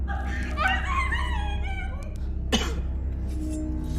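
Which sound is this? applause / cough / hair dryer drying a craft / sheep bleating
cough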